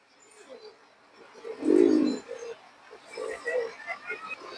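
A pair of fancy pigeons coos close by, with one fuller coo rising out of softer murmurs, while someone talks over them.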